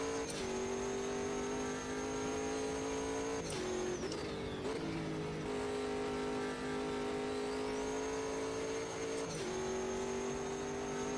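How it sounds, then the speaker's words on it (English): A Sigma P1 race car V8 engine in the racing game Automobilista 2 at Kyalami roars steadily at high revs, with brief dips and pitch drops as gears shift, loud and continuous. "I do like the sound of that V8, very nice."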